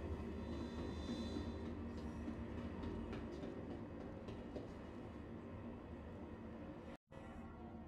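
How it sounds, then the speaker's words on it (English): A metro train in the Star Citizen video game arrives at a spaceport station in New Babbage with a steady low rumble and rolling rail noise, fairly quiet and continuous, with a brief dropout near the end. "once the train arrives, just go ahead and get on and enjoy the nice ride out to the spaceport"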